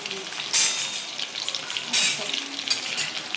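Curry leaves dropped into hot oil with garlic for a bitter gourd vegetable dish crackle and sizzle loudly in bursts, with three sharp flare-ups over a steady frying hiss.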